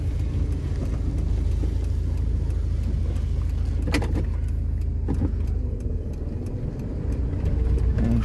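Steady road traffic in a jam in Vinnytsia, with car engines idling and rolling past close by, a continuous low rumble of motor noise and occasional louder passes, no talking.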